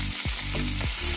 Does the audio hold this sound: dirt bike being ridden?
no